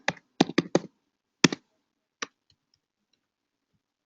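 Python code being typed on a computer keyboard: a quick burst of four sharp keystrokes, then a few isolated taps with pauses, close and crisp in a quiet room.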